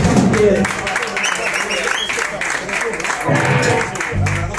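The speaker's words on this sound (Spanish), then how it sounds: "¡Un fuerte aplauso a esta pedazo de banda!" A live rock concert crowd applauds and cheers for a band at the Excalibur Sur venue in Alcorcón, Madrid, a loud, steady roar of clapping with a shouting voice breaking through over it.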